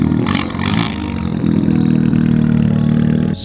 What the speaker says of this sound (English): This Suzuki Swift made my ears ring. It was so loud.